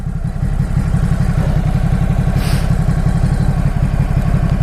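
A Ducati Supersport S motorcycle engine thrums while riding, a loud, close, rhythmic low pulsing that holds steady throughout with faint wind noise and no speech.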